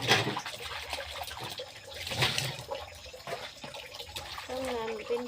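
Tap water runs steadily into a kitchen sink during washing up, a continuous splashing rush that holds at a fairly even level, with a voice briefly heard near the end.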